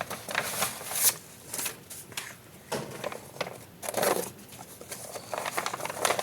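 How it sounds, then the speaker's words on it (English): Scissors cut across the bottom of a bag for paper crafting, giving a run of close crinkling, rustling snips with irregular bursts of crisp paper noise. "What you do with the bag, you cut the bottom off."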